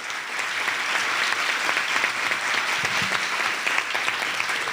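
An audience at a talk on ideas for Colombia's future applauds the authors, a steady, dense wash of many hands clapping that holds evenly for several seconds without talk.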